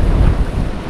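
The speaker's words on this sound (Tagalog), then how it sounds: "Lakas-lakas ang hangin oh" Strong wind buffets the microphone with a loud, continuous low roar, gusting slightly, with no voices.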